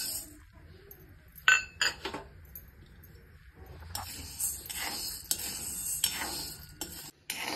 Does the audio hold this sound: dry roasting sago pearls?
yes